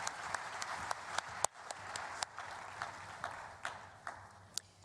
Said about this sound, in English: A warm round of applause, please,